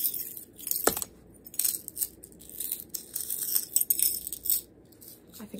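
A small metal charm is fidgeted with up close, giving light tinkling clinks and jingles in irregular bursts, crisp and delicate, with no talking.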